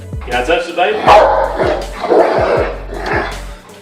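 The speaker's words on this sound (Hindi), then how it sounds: "इनका कुत्ता इसके ऊपर जोर जोर से भौंकने लगा" A dog barks repeatedly and angrily at a man, sharp loud barks recurring in a steady rhythm under an excited narrating voice throughout.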